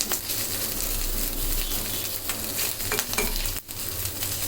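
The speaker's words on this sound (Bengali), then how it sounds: "এখন অন্য তেলে ভেজে নিলাম" Sardine fish frying in oil for a mashed sardine dish, a dense steady sizzle close up with occasional scraping stirs and a brief utensil knock, no talking.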